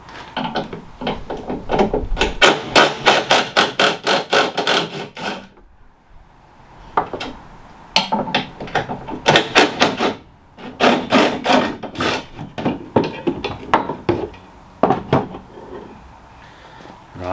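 A ratchet on a long bar with a 13mm socket undoes bolts on a rear wheel carrier hinge of a Fiat Ducato campervan. Bursts of rapid, close clicking repeat with short pauses between them.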